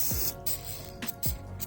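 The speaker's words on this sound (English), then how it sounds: "So I'm sitting here spraying it on," Aerosol spray can hissing in short bursts, with a faltering, sputtering spray between pauses, close and moderately loud.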